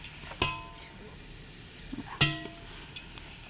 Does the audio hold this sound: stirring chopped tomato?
yes